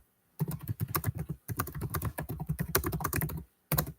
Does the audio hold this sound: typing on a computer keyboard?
yes